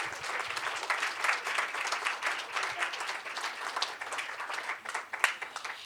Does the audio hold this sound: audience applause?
yes